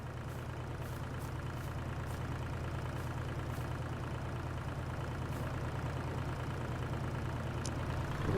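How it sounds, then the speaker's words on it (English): A small tractor engine idles with a steady low, rumbling drone that holds unchanged throughout, fairly close, with faint ticking clatter above the hum. "Right, to move this tractor."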